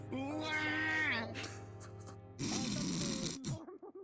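A person snores loudly in two long rasping, rattling breaths separated by a short pause, close and alone, ending in a few sputtering snorts.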